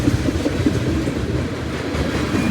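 A Norfolk Southern freight train led by NS 4885 and 4889 rolls steadily past up close, a loud, continuous rumble of wagons with faint clicking from the wheels on the track.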